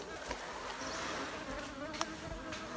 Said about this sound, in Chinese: 有啊， 外面有蜜蜂